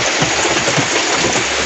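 Heavy monsoon rain in Kerala pours down in a dense, steady hiss, loud and close, with no voices over it.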